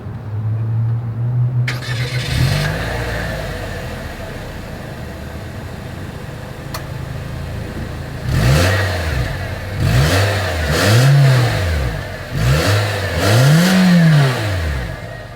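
A 2023 Nissan Versa with a single exhaust outlet cranks and starts, settles into a steady idle, then gives four rising and falling revs, each one louder, with no talk over it.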